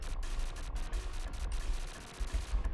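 Rapid gunfire from the arcade shoot-'em-up U.N. Squadron rattles continuously as a dense, steady stream of shots over game background noise, loud and unbroken for a few seconds.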